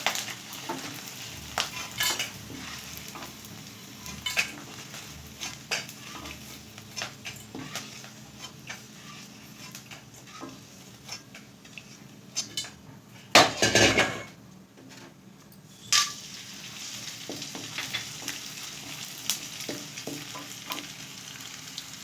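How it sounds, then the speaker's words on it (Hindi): Edible gum (gond) frying in ghee in a pan, with a continuous sizzle and crackle, frequent clinks and scrapes of a metal spoon against the pan, and a louder burst of clatter partway through. "सभी गोंद को अच्छी तरह से फ्राई कर लिया है"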